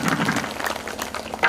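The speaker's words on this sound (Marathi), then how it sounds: "पुन्हा टाळी वाजवून द्या" Audience clapping together at a New Year festival gathering, a dense, crackling patter of many hands that carries on steadily through the brief moment.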